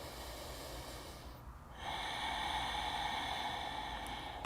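A breath drawn in during a yoga session, the airy inhale rising after a short pause and holding steadily, close and quiet with no voices.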